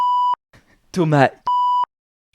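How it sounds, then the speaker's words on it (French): Two loud, steady censor bleeps, each about a third of a second long, bracket a short burst of speech, masking a spoken name in casual French conversation. "Et avec Chloé, je vais biper son blaze"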